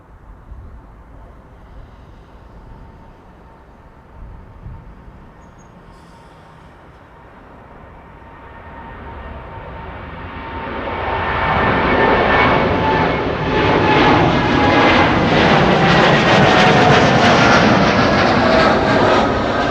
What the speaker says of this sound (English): This is TUI flight 367. It is coming this way.